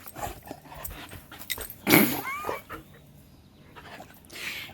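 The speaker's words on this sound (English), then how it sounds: "This is our other dog" An excited dog whimpers and growls in a garden, its low grumbles broken by one loud yelping whine near the middle, close by, while birds chirp faintly behind.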